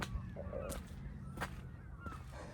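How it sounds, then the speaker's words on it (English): Outdoor birds call faintly in the distance, with a few sharp, scattered squawks over a low background hum. "All right, birds, I hear y'all."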